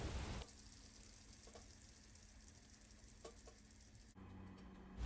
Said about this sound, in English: Let your peppers cook for about 1 to 2 minutes so they still have a little bit of crunch